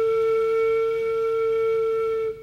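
A single steady flute tone, made by blowing air across the embouchure hole, holds clear and pure for about two seconds and then cuts off, heard alone and close.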